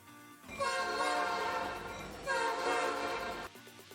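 A train horn sounds as an effect in two long, loud blasts of a steady multi-tone chord, the second following right after the first.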